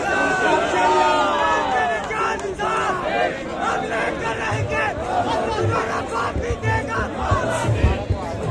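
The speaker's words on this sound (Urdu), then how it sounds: "یہ جو نعرے لگا رہے ہیں" Political rally crowd in Pakistan chants slogans in loud, rhythmic unison, many voices shouting together close by, with overlapping shouts and crowd noise filling the whole stretch.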